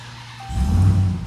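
A Dodge Ram TRX pickup truck engine turns over and catches partway through, settling into a loud, deep, rumbling idle close by with no talk over it.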